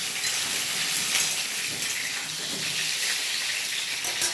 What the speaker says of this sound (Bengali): ঢাকা দিয়ে দিয়ে ভেজে নিচ্ছি, ভালো মতন ভাজা হয়ে যাবে